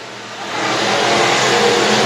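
A race car engine revs on a track during a racing fundraiser night, rising from a quieter start into a loud, sustained roar as it passes along the back straightaway.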